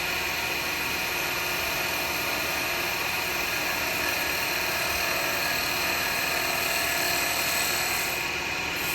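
A woodturning chisel cuts a spalted wood vase spinning on a lathe, making a steady, loud, continuous high whine and hiss that holds without break.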